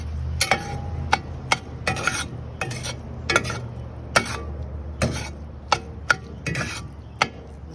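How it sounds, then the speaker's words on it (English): A utensil stirs eggs in a pan on a solar cooker for breakfast burritos, giving a dozen or so sharp scraping clicks at an uneven rhythm over a low, quiet background hum. "Give this a good stir around."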